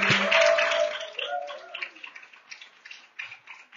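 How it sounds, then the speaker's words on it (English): An audience at a faith based committee candidate forum in Fountain, North Carolina applauds loudly at first, the clapping then thinning into scattered claps that fade out. "Can we give a round of applause to the faith based committee?"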